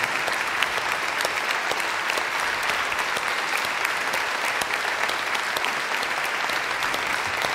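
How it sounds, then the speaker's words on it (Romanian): Sustained, steady applause from a concert audience fills the space after a Romanian Byzantine psaltic choir sings a Christmas carol, dense and even throughout with no voices rising above it. "Ropot de aplauze pentru acești iscusiți vestitori ai nașterii Domnului."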